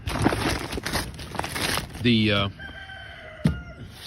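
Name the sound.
rooster crowing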